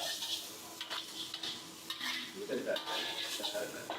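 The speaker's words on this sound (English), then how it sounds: "Add in tempeh. And then give a good stir." Tempeh frying in a pan and stirred briskly, vegan kulat sisir style: a steady sizzle under repeated scraping and clinking of the utensil against the pan, close up, with no talk.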